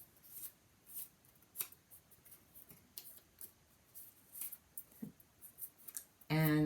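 Scissors snipping through excess construction tape, a series of short crisp cuts spread across the clip, close and fairly quiet, with a louder rustle right at the end.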